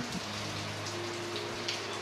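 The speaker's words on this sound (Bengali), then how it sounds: "এই প্রথম এরকম মুষলধারে বৃষ্টি হচ্ছে এখানে" Heavy downpour in Belgaum, a dense steady hiss of rain striking surfaces with scattered distinct drop patters, continuous and fairly close, no voices.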